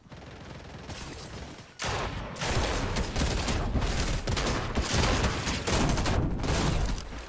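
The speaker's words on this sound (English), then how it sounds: "There was gunshots northwest" Rapid bursts of Fortnite gunfire crackle continuously, loud and close, with a brief lull before the shooting resumes even heavier.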